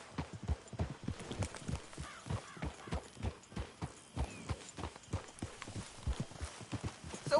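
Hooves of a galloping horse in Red Dead Redemption 2 pound in a steady, quick rhythmic clip-clop throughout, moderately close and alone over a faint background.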